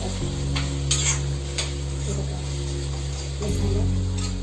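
Dried shrimp fry in hot oil for brinjal bharit, giving a continuous close sizzle with occasional stirring scrapes and a steady low hum underneath.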